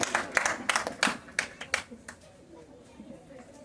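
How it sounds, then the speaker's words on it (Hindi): An audience at a shayari poetry recital in Bhilai breaks into a short burst of applause, a couple of seconds of scattered, close hand claps that fade out, with a voice talking over them. "जोरदार तालियां।"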